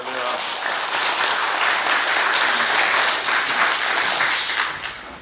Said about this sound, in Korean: 나오실 때 어제처럼 할렐루야 인사하시고 박수 하면서 목사님 환영하겠습니다